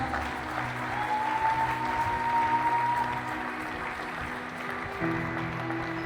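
A church congregation applauds the Lord, with steady, moderately loud clapping across the whole stretch, a sustained tone riding over it for a few seconds and a brief swell near the end.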